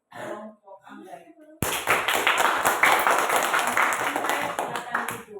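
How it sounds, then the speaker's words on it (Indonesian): A classroom group of students claps together for a student group, steady dense applause lasting several seconds, beginning abruptly just after a brief spoken line. "Mari kita berikan aplaus untuk kelompok anggrek."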